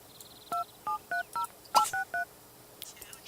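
Phone dialing in The Sims 3: a quick run of eight electronic keypad tones, evenly spaced short beeps with a soft click midway, followed by quiet.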